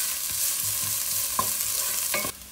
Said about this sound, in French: Une fois que l'huile est chaude, donc je verse les graines de fenouil, puis l'ail et le gingembre.